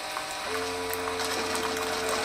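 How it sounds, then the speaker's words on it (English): A Keurig K Duo coffee maker brews with a steady mechanical pump hum and buzzing whir that starts abruptly about half a second in and runs on continuously, fairly close. "I pressed brew, the coffee started pouring out within just a few seconds"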